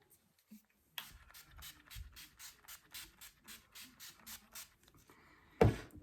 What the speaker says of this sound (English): I'm going to give myself a wee spray.